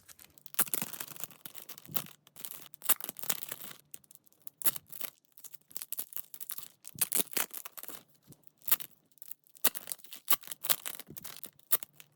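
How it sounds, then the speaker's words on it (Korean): Plastic wrapping on NCT anniversary merchandise is wiped and handled close up, giving soft, irregular crinkling and rustling scratches in quick clusters, quiet and with no voices. "일단 비닐부터 닦아줄게요"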